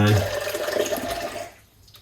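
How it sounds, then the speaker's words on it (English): Hot water runs from a kitchen tap in a close, splashing gush that cuts off after about a second and a half, leaving a quiet room. "then we're gonna get some hot water"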